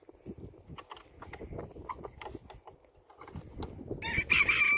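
Hens cluck softly inside a hen house with broody hens, scattered close calls and rustling building toward a louder burst of squawking at the end.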